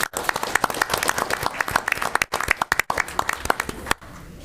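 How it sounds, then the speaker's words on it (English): A council meeting audience claps in a lively round of applause, close and loud with distinct individual claps, and a few voices break in briefly before it fades out near the end. "Let's give them a hand of applause."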